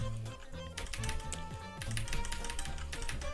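Rapid, steady typing on a Keyz Rubidium mechanical keyboard, dense clacking keystrokes close up, with faint background music or tones underneath and no clear speech.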